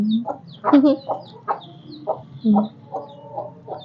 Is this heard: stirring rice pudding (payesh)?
no